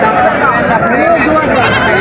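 A white goat bleats loudly and close by at the busy Baneshwar goat market, a wavering drawn-out cry sounding over crowd noise and talk.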